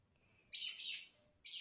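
A person imitates a bird with two high, bright chirping calls, the first longer and warbling, the second starting just after a short pause, clear against near silence, in a Hindi cartoon.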